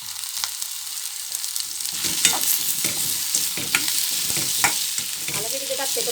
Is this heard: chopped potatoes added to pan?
yes